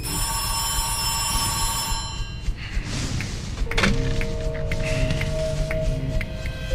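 A telephone rings with a steady electronic tone over a low background rumble, followed by a thunk and faint shuffling.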